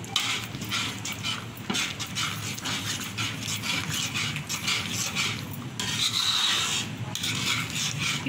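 Thick Tirunelveli ghee halwa is stirred continuously in a pan, giving a steady, close rasping and scraping that carries on without a break.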